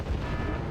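Heavy weapon fire booms through a battle in the wargame Wargame Red Dragon, with tanks in the fight. The rumble is loud and sustained from start to end, dense and low, with no talk over it.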